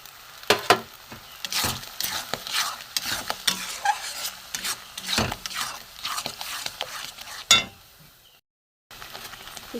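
Tender coconut stirred with date palm jaggery in a pan, a spoon scraping and clinking in quick irregular strokes over a soft sizzle, close and fairly loud, with a brief silent gap near the end.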